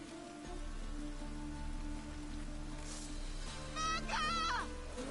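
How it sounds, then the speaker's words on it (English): Steady rain falling in The Witcher 3 video game, a soft continuous hiss under low game ambience, with a brief voice and a short melodic game sound rising near the end. "Must be mad running around in this rain."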